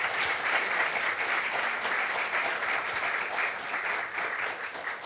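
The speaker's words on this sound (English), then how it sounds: "Can we please give Gary and Crystal and Ruth a round of applause?" An audience gives a round of applause at a justice event, with steady, dense clapping from a full room that holds its level for the whole stretch and eases off slightly at the end.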